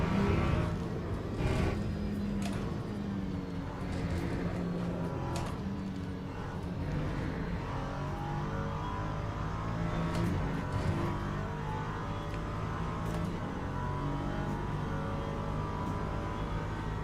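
An LMP3 race car engine in the Le Mans Ultimate sim racing game drones steadily from the cockpit, rising and falling with gear changes and revs across an unbroken stretch of driving.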